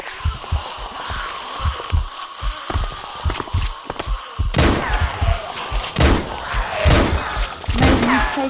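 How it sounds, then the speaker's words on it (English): Gunfire against zombies in a modded Minecraft game, with repeated sharp shots and heavy thumps over a busy, loud game soundscape, growing denser in the second half. "I was trying to shoot the zombies."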